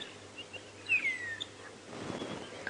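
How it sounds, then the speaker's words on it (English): Faint bird calls and chirps at sunrise scattered through quiet outdoor safari ambience, with one brighter whistled call standing out near the middle. "You can hear a lot of bird sound around."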